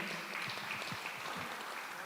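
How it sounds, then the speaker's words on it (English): An audience applauding panel speakers at a community event on trauma, a faint, steady patter of many hands clapping throughout. "Can I get another round of applause for Ms. Rika White, for Ms. Carmel Ellis, Ms. Renee Cage, and Dr."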